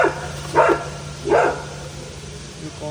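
A dog barks twice in quick succession, close and fairly loud, with a short quieter sound near the end over a steady low hum.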